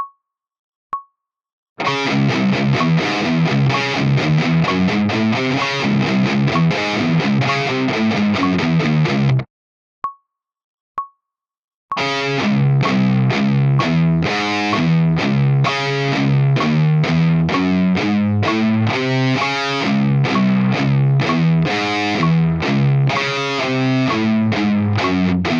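Electric guitar riff played through an Axe-Fx with a thick, heavily distorted tone, loud and upfront, in two bursts of choppy chugging notes shifting back and forth between pitches, separated by a short pause with a couple of faint ticks.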